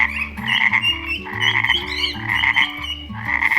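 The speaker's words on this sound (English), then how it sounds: "Frog," A frog croaks in a rapid, rhythmic series of loud, buzzy calls, repeating steadily and close up with no voices.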